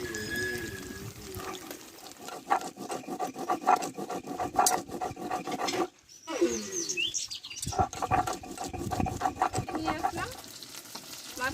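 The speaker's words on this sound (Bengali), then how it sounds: "মাছটা ভাজা হতে থাক এবং মশলাটা আমি বেটে নেবো" Mustard spice paste is ground on a flat grinding stone, giving a steady close rasping and rubbing in repeated back-and-forth strokes, with a short pause midway and faint frying sizzle and bird chirps behind.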